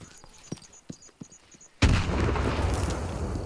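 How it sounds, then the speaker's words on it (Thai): After a few light clicks and beeps, a sudden loud explosion in Stalker 2 bursts out and trails into a long, roaring rumble. "ระเบิด"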